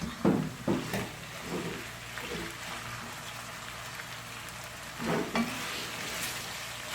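Minced chicken keema, 400 grams, fries and gets stirred in a pan over browned garlic and ginger. A steady low sizzle runs throughout, with a few soft scraping stirs near the start and again around the fifth second. No one talks.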